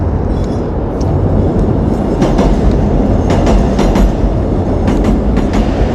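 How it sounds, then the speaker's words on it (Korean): Subway train rolling past close by, a loud steady rumble with rhythmic clatter of wheels over rail joints filling the whole stretch, no voices over it. "여기 전철이 지나가서"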